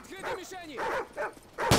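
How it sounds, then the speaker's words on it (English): Dogs barking and yelping in Call of Duty 4: Modern Warfare, several sharp close barks and whines in quick succession, ending on a loud burst of gunfire or impact. "Dogs are next."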